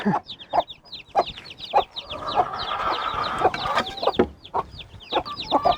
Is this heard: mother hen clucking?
yes